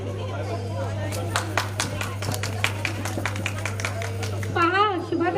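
Scattered hand claps ring out at a women's haldi-kumkum gathering, irregular and moderately close over a steady electrical hum, with voices talking alongside and one voice rising near the end.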